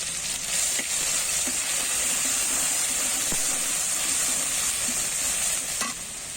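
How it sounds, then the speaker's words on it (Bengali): Garlic paste fries in hot oil in a wok as a dense, steady sizzle. Faint scrapes of stirring sound at intervals, close and continuous throughout. "তেল গরম হবার পর এর মধ্যে রসুন বাটা দিব এবং হালকাভাবে ভেজে নিব।"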